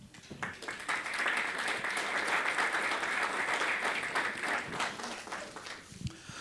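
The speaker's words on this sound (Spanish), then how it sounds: "juntos, por favor, vamos a dar fuertes aplausos" A church congregation applauds together during a Sunday service, a steady wash of clapping that swells quickly and holds strong for several seconds before tapering off.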